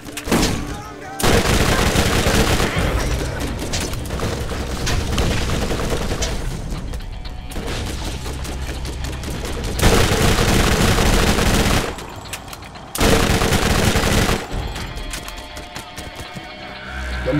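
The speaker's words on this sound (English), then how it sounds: "Using rocket launchers as Roland." Rocket launchers fired by Roland in Borderlands 1 during a Dahl allegiance playthrough: bursts of heavy, booming gunfire and explosions come in long loud stretches, broken by short quieter gaps.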